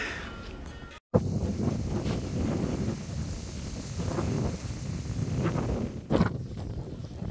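Steady wind buffeting a microphone, a continuous low rumble with gusty swells and a brief dropout near the start.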